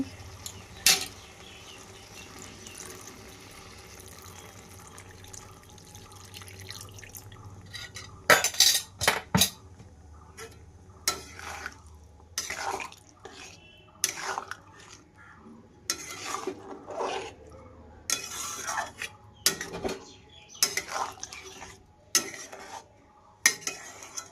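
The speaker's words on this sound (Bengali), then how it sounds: "এর মধ্যে জল দিয়ে একটু নেড়ে নেব" Aloo potol curry being stirred in a pan after water goes in: quiet, intermittent clinks and scrapes of a metal spoon against the pan over a low simmering background, close up, with no talking.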